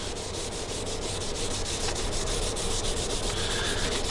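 A rag rubs black cherry stain into the wooden body of a double-neck Telecaster, a steady, close, continuous scrubbing and swishing with no pauses and no voices.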